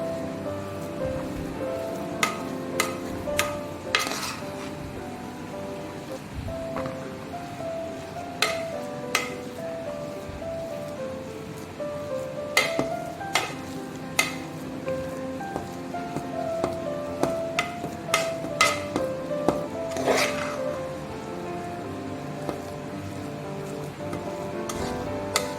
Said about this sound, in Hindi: हमारी दाल अभी भी गर्म है, इसलिए हम इसे अभी स्मैश करेंगे